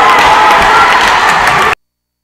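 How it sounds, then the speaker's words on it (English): A basketball crowd in a historic gym cheers and claps at a women's game against WashU, a loud, dense roar of voices and applause that cuts off abruptly. "The crowd goes crazy at the historic gym, and now they're on their feet, clapping it up"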